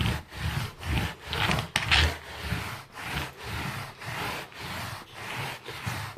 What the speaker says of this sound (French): Vous brossez pour faire pénétrer le bicarbonate qui va aller nettoyer en profondeur le tapis.